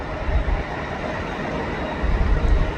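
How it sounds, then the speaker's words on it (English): A train arriving at a platform at Crewe station, a broad, steady rumble and rush of noise with slight swells, fairly near and without speech. "That is one train I would love to see fly past me at a train station."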